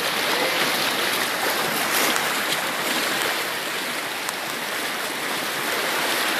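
Strong floodwater current rushing past submerged houses during the Moilong flood, a steady, loud broadband roar of churning water that continues without pause, with no talking.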